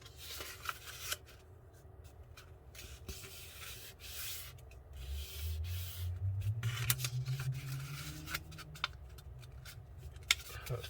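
A sheet of paper being folded for a simple paper airplane gives soft rustling, rubbing and creasing sounds with intermittent crisp clicks, close and fairly quiet throughout, with no voices.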